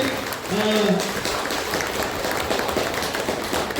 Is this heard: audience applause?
yes